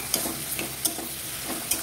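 Spice paste with green chilli paste and turmeric frying in a pan for a fish-head muri ghonto, a dense close sizzle punctuated by three sharp stirring clinks.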